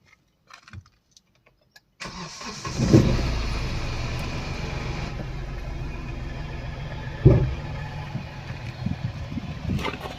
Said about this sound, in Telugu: ఇంజన్ కండిషన్ చూపిస్తాను. సార్ ఇంజన్ కండిషన్ చూడండి.